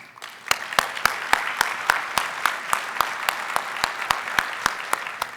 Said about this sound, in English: Let's have a round of applause, not just for the winners, but for all of you who helped to create the projects